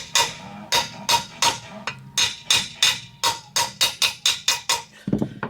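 Sharp hammer taps driving a new front wheel bearing into the hub of a 1997 Audi Quattro, about fifteen close, ringing metallic strikes in a steady, slightly quickening rhythm, then a brief rustle at the end.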